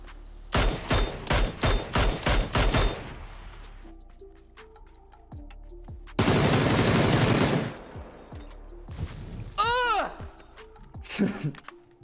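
Machine gun fire in PUBG rattles out in a rapid burst of loud, close shots, followed later by a dense sustained volley, with a player voice groaning and reacting in between.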